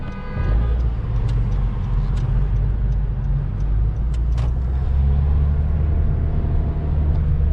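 Heavy traffic on a US city street, a loud constant rumble of passing cars and other vehicles close by, with a few faint higher rattles and toots over the steady roar, no voices.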